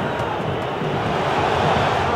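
Stadium crowd noise from the football video game EA FC 24, a steady, dense roar of massed spectators with faint babble and cheering running evenly throughout.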